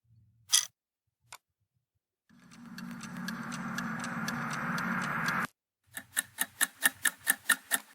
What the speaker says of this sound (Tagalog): Ito, clock ticking.